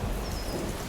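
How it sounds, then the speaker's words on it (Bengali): Heavy rain pours as a sound effect in a dramatized audio story, a dense, loud, steady hiss with thunder rumbling underneath and no voices. "ঝমঝমিয়ে নামলো বৃষ্টি,"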